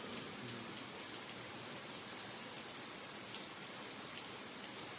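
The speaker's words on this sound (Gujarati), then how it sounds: "વરસાદ દબદબાટી બોલાવે ને દબદબાટી" Heavy rain pours down steadily in a village, a dense, continuous hiss and patter with no voices, fairly soft and even throughout.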